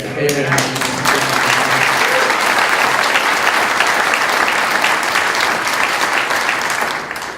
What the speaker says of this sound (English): I've never gotten so much applause.